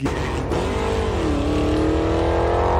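A muscle car engine roars steadily as it accelerates, its pitch rising and shifting through the gears, loud and close with no voices over it.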